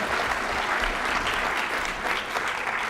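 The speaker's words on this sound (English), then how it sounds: "Give yourselves a round of applause." A lecture audience at Irvine Valley College applauds, dense and fairly loud clapping from a full room that holds steady across the few seconds with no voices over it.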